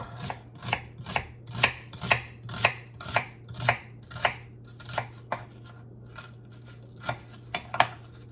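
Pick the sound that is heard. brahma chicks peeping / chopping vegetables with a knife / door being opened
chopping vegetables with a knife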